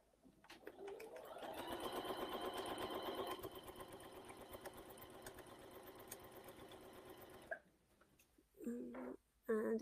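A sewing machine runs steadily for several seconds stitching a long strip of quilt fabric for a rail fence quilt, then stops; pigeons coo in the background and a few thumps follow.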